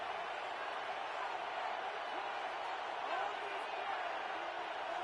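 Stadium crowd noise in a Madden football video game, a steady broad roar of a large crowd building on a third down late in the fourth quarter, with a commentator talking over it.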